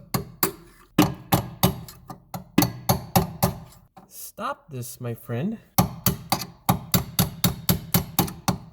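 A hammer strikes a punch held against a seized rear strut bolt on a 2007 Subaru Forester, with a brisk run of sharp metallic blows in steady rhythm, a pause while someone speaks, then more rapid hits.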